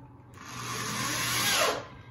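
A power drill drives a screw into a canvas frame in one smooth, rising whir of about a second and a half, close and alone.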